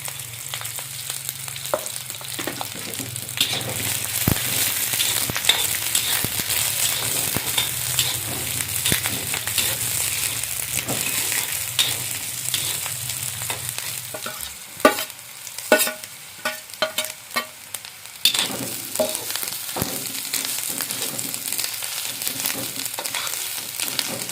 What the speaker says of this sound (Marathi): आता कांदो आला लसूण हिरवी मिरची सगळा एकत्रच भाजून घेते